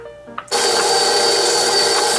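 An electric mixer switches on and whirs loudly and steadily, beating chocolate chip cookie cake batter of butter, brown sugar and white sugar, after a short quiet moment with a faint clink.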